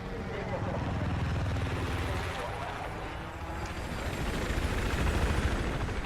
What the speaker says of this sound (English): That helo does not bode well.